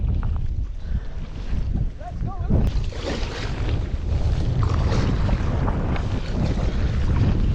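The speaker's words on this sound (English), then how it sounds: "Oh, this wind is just pushing me sideways." Strong wind buffets the microphone while paddling in open water off Assateague Island, a loud constant roar with water sloshing, and a person speaks briefly over it.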